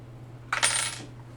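Small dice rolled for a tabletop D&D game, a quick clattering burst of hard little impacts that rattles briefly and fades, fairly close and alone against quiet room hum.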